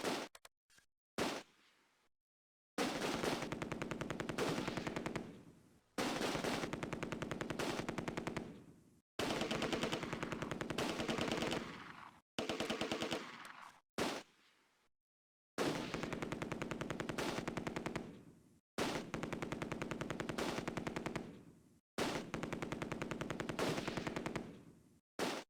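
An MG42 machine gun in the video game Close Combat fires in long, loud, rapid bursts of several seconds each, separated by short silences, with no talking.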